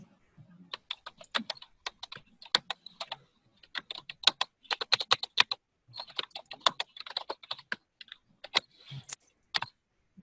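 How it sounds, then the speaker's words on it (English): Someone types on a computer keyboard in short irregular bursts of crisp, close key clicks separated by brief pauses, with a quiet room and no talk. "I'm just typing to her that I'm giving her the floor next."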